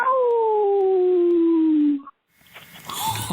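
A person imitates a wolf-like howl over a phone line: one long, sustained tonal howl gliding slowly downward for about two seconds, then a brief silence followed by muffled phone-line noise.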